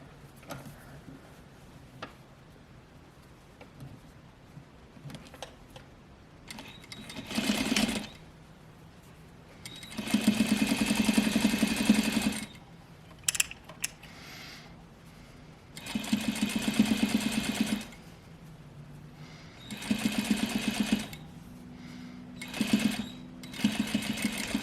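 A sewing machine stitches a tailored placket in several separate runs, each a loud, fast, rhythmic whirring burst lasting a few seconds, with quiet pauses and small handling ticks between them and no talk.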